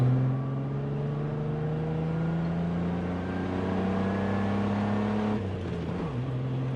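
A Jeep TJ on 33-inch tires with 3.07 gears floored from about 2200 RPM in second gear, its engine droning steadily and rising slowly in pitch, close and continuous, with a brief dip near the end.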